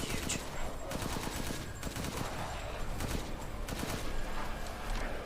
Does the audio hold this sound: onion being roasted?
no